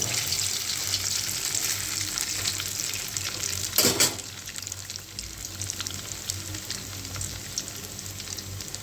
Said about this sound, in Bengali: এইভাবে সব কটা ভেজে নিচ্ছি